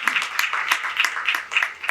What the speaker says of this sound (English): she's worthy of that round of applause.